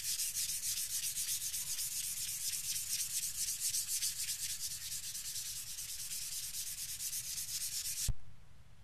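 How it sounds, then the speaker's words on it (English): Continuous rhythmic rubbing of 800 grit sandpaper polish-sanding a polyester resin guitar clear coat, close and fairly quiet, with quick back-and-forth strokes that stop abruptly near the end. "I finished polish sanding with the 800 grit"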